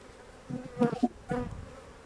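Honeybees in a crowded, overflowing beehive give a low, steady buzz, with a few louder swells as bees pass close.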